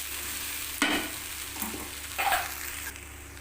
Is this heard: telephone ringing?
no